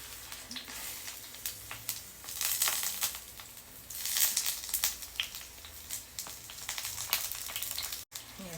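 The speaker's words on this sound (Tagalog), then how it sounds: "tuloy lang natin yung pagprito hanggang sa maging golden na siya" Sliced eggplant frying in hot oil in a pan makes a crackling, spattering sizzle with uneven swells and small pops, fairly close and moderately loud, and cuts out for a moment near the end.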